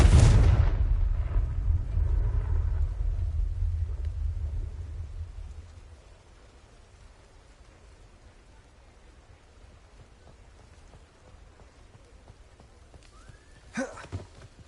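A Confringo blasting spell explodes in Hogwarts Legacy, a loud booming burst with a deep rumbling tail that fades over several seconds into quiet game ambience, followed near the end by a brief sharp effect.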